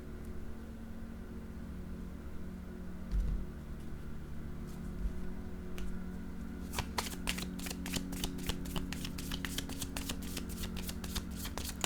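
Tarot-style cards being shuffled for a card reading, at first quiet and sparse, then a rapid run of crisp riffling flicks in the second half, close and fairly loud over a low steady background hum, with no talking.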